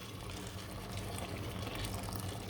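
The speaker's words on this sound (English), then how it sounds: "So I'm going to add the water." About two cups of water are poured slowly into a pot of Viking stew outdoors on a freezing, windy Melbourne day, a steady, dense splashing rush with no gaps and no talk.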